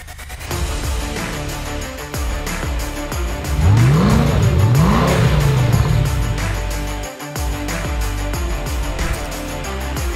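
A Ford GT supercar's engine runs steadily and loud throughout, with a strong rising rev sweep near the middle, close and alone with no talk over it.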